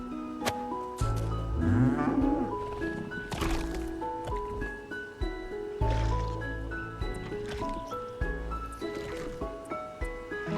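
Cow mooing in the video game Beastro, a low drawn-out bellow rising early on, heard over steady game music with soft clicks and chimes.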